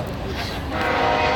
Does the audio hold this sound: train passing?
yes